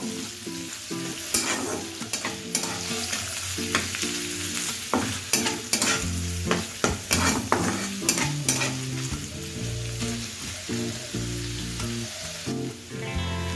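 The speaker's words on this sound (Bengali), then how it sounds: "এবার ওই ঘিয়ের মধ্যে নারকেল কুচিগুলো দিয়ে দিচ্ছি নারকেলটাকেও হালকা ব্রাউন করে ভেজে নিয়ে তারপর তুলে নেবো" Chopped coconut fries in ghee for a potato-cashew fry, a close crackling sizzle punctuated by frequent rhythmic scrapes and knocks of the spatula on the pan, with no speech.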